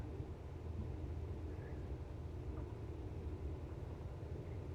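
A small airplane's engine powers up for the takeoff run in a flight simulator, a steady low, dense rumble that holds constant and fairly loud throughout with no talk.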